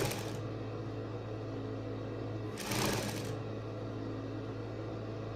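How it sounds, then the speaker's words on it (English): Sewing machine stitching bias tape onto the right side of fabric, a steady low mechanical hum running throughout with a brief louder burst of stitching in the middle. "I am sewing this bias on the right side of my fabric"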